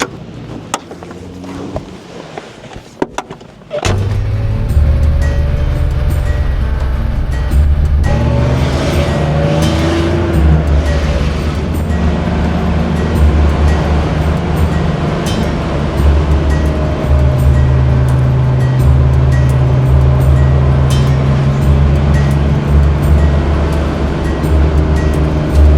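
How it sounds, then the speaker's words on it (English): A car climbs a mountain road toward Lookout Mountain on the Tennessee–Georgia line, with steady loud engine and road rumble from inside the cabin after a few seconds of door and handling noise, no talking. "Let's jump in the car and we'll head up the mountain"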